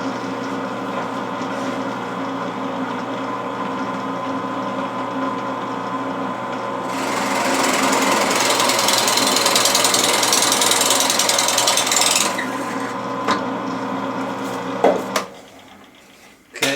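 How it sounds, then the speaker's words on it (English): A Bauer 10-inch drill press bores a 1-inch Forstner bit about halfway into a pine board, with a steady motor hum and a rougher, louder grinding cut through the middle. The spindle then winds down to quiet. "1-inch Forstner bit in pine. I'm going to go about halfway through the board."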